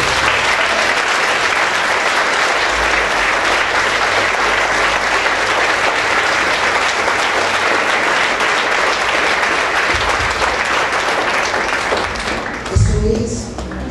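A church congregation claps together in sustained, loud applause that fills the room evenly for most of the clip, then thins out near the end as a voice briefly comes in.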